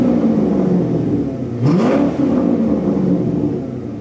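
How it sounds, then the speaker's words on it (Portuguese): A Chevrolet Corvette's engine rumbles steadily, then swells in one sharp rev midway before settling back to a loud, close idle growl, with no voices over it. "Escuta o ronco aqui, ó, dessa belezinha."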